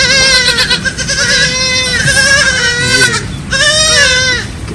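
Goats and their newborn kids bleat loudly and close by, several overlapping wavering cries in quick succession with a brief pause before another burst.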